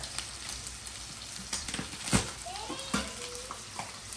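Steak sears in a pan of butter with smashed unpeeled garlic, giving a steady close sizzle broken by stirring scrapes and a loud clatter midway, with no talking.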